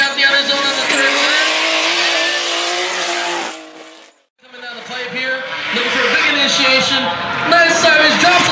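Drift car sliding sideways through the outer zones at a drift practice session, engine revving hard and tires squealing loudly and continuously, with a brief dip midway before the roar and screech return.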